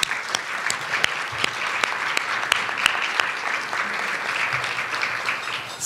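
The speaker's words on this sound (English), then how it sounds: "can we just have a little round of applause for the NEA?" An audience claps steadily for the NEA at a talk on creative placemaking, a dense even patter of many hands with a few sharper individual claps, continuing alone without voices.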